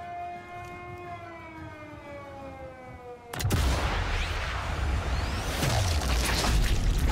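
A wailing alarm siren in the game Sniper Elite 5 rises and falls for a few seconds, then a loud blast cuts in and a dense roar of explosions and gunfire takes over.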